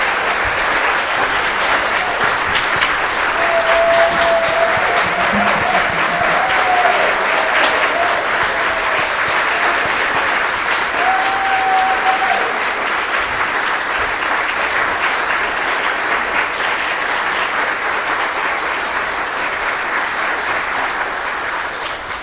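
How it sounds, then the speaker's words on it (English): A church congregation at Sunday worship applauds its staff, a dense, sustained wash of clapping that runs loud and even for about twenty seconds before starting to taper, with faint voices and a brief whoop among the hands. "But let's give a clap for the staff that are here."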